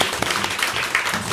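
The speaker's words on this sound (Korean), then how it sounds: "박수 한번 쳐주자고요." A church congregation at a Korean church service claps together in a brief burst of applause, a dense, even wash of many hands filling the room.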